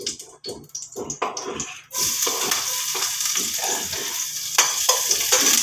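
Garlic drops into a hot pan for a winged bean dish, with a few stirring scrapes first and then a loud, steady sizzle of frying that continues to the end.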